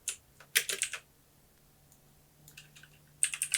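Someone types on a computer keyboard while writing web code, two quick bursts of close clicking keystrokes separated by a quiet pause, with no talking.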